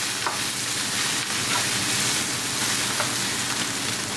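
Brussels sprouts and paneer frying with spices over high heat in a pan, a dense loud sizzle that runs without a break, with a few soft stirring scrapes.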